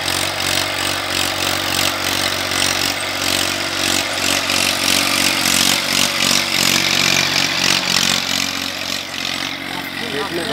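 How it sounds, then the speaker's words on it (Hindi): Massey Ferguson 1035 DI tractor working a tiller in a grassy field, a loud, continuous engine drone with rattling mechanical noise that stays close and steady throughout. "ट्रैक्टर भागा फिर रहा है।"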